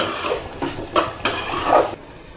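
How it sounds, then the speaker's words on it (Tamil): Tomato rice is stirred in a pot over a low flame, a spoon scraping and knocking against the pot in several uneven strokes close by, with a faint sizzle beneath and no talking. "அடுப்பை வந்து நல்லா ஸ்லோவாக வச்சுட்டு கிளறி விட்டுக்கிட்டே இருப்போம்"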